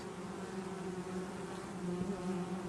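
Honeybees buzzing around chestnut honey hives, a dense steady drone of many insects close by, continuous and even throughout with no talk.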